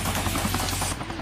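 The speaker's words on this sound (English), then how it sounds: "we're riding on a helicopter" Helicopter in the Xbox 360 game Sonic Generations, on the Speed Highway zone, gives a loud, dense, steady rotor and engine roar that drops off slightly near the end.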